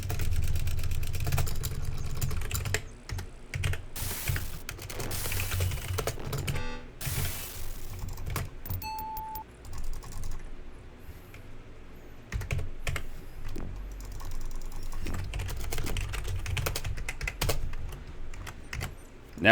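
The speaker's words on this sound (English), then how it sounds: "Now I'm typing all over the place tonight." Keys on a computer keyboard clatter in irregular bursts at low level, with faint background hum and occasional louder taps throughout.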